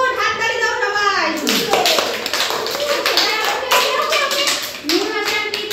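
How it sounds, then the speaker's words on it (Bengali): Young preschool children clapping their hands together in a classroom, a burst of quick, uneven claps close by, with children's voices and an adult speaking over the clapping. "হাততালি দাও সবাই"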